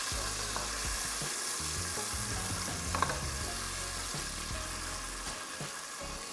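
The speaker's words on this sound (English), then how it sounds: "When the oil is hot, I'm going to add in my pepper mix." Spiced pepper mix for Nigerian concoction rice frying in hot oil, a steady close crackling sizzle with stirring scrapes throughout and a brief louder pop near the middle.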